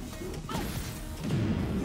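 Heat smash attack landing in a Tekken fighting game, a sharp crash and impact burst with a whoosh, loud and close, layered with game effects.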